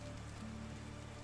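Steady rain falls in the medieval survival game Medieval Dynasty, a constant soft hiss of drops on surfaces that runs evenly throughout with no voices.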